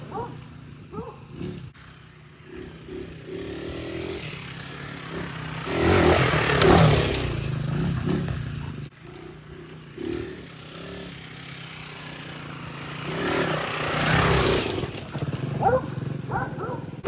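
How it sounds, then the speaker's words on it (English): A KTM 350 dirt bike riding a hand-built trail through the woods, its engine surging and fading at a distance across two passes, with scraping and clattering in between. "I'm gonna take my first hit on it right now with my KTM 350"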